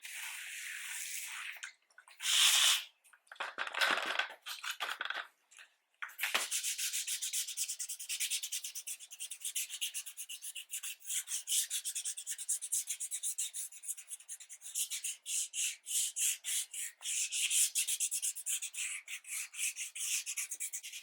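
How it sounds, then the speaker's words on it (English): Light hand sanding of faded plastic trim on a car, a close, steady dry scratching rub that runs in quick back-and-forth strokes after a few brief opening passes, with no voices. "Don't put a lot of pressure, it has to be a light sanding"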